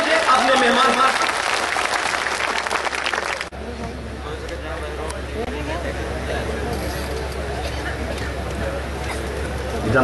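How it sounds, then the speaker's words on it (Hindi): A crowd at a large gathering claps loudly for a guest in a dense burst of applause that cuts off abruptly, leaving murmuring crowd noise and a low background hum. "आगे से पीछे तक एक बार यह मजमा जोरदार तालियां बजाकर इस्तेमाल कीजिए अपने मेहमान"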